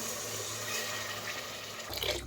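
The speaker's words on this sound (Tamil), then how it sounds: "ஒரு கிளாஸ் அரிசிக்கு நான் ரெண்டரை கிளாஸ் தண்ணி வந்து ஊற்ற போகிறேன்" Water pours from a glass into rice for soya bean biryani in a steady, close splashing stream that ends abruptly near the finish.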